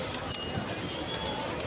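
Pigeons cooing on a busy street in Mecca, soft repeated coos close by over a steady crowd murmur with occasional sharp taps and footsteps.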